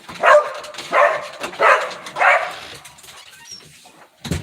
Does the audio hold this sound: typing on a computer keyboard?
no